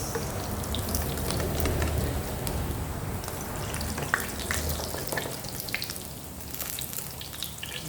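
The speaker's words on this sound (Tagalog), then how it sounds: "Crispy pretong bangos" Milkfish (bangus) frying in a pan: a steady, fairly quiet sizzle of hot oil with dense crackle and spatter, continuing evenly throughout with no voices.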